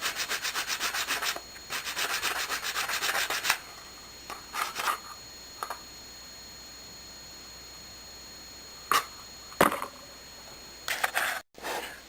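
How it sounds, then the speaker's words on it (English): A small piece of regular sandpaper is rubbed over wood, working a banjo part by hand in quick rhythmic strokes, first in a steady run and then in short scattered scrubs with quiet gaps between. "Now I'm just going to take a little piece of regular sandpaper and just kind of work that around a little bit there"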